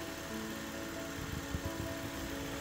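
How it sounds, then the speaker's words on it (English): A 2009 Nissan Elgrand 2.5 Highway Star engine idles quietly and steadily with a low, even hum and faint mechanical ticking, heard close and alone. "Engine is running now, should be able to hear that."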